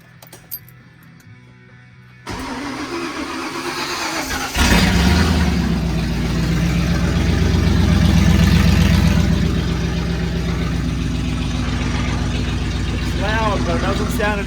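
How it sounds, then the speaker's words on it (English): A Ford LTD or Fairlane engine with no muffler cranks and fires up loud and raw, settling into a heavy rumbling idle with a few revs; voices talk over it. "Now you always got to fire the car up with no muffler."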